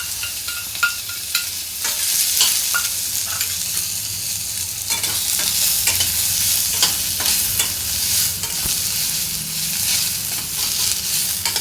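Sliced onions frying in oil for chicken gravy, a steady close sizzle with repeated stirring scrapes and light taps of a spoon in the pan, with no talk.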